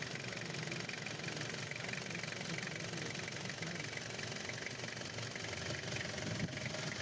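Diesel engine of a 2003 Toyota Qualis idling, a steady low rumble with a faint knocking texture, even and continuous, recorded at moderate distance with no talking.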